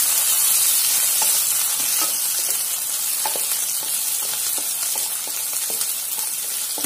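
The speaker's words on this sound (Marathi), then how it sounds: "गॅस कमी करून घ्यायचा आहे, मिरची शिजू द्यायची, थोडी मिरचीचा फ्लेवर सगळीकडे चव येईल अशी" Green chilies frying in oil in a pan for sabudana khichdi: a continuous, close sizzle with frequent small crackles and pops, steady in loudness throughout, with no talking.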